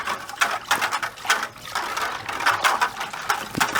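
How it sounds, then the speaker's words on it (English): A mint chocolate chip water ice mixture is whisked briskly in a bowl, giving a steady run of rapid scraping, clicking strokes with no talking. "We're going to whisk it up a little bit."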